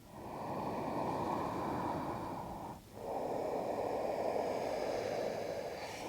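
Loud, steady breathing during a sun salutation yoga sequence, a continuous airy rush with one brief dip between breaths, close and alone without talk.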